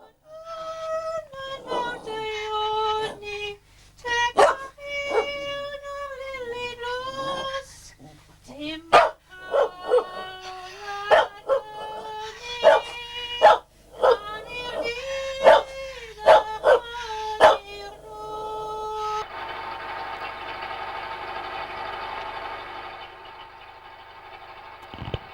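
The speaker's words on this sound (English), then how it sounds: "having a duet with her favourite dog" A woman sings in a duet with her favourite dog on a 1990s Pembrokeshire farm, the dog's wavering howls and yips rising and falling alongside her voice for about twenty seconds, close and fairly loud.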